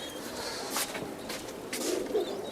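Giribaz high-flyer pigeons out of their cage coo softly in a few short, low bursts, close by, over faint background noise and rustling.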